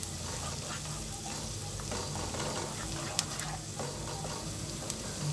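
Minced garlic sizzling and frying in a sofrito in a pan, with steady crackling and light stirring scrapes, close and continuous, no voice over it.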